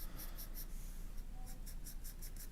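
Ritmo B pencil drawing a portrait on paper, soft close scratchy strokes in quick bursts, a short run of three, a pause, then a steadier series of rhythmic scratches, quiet and alone.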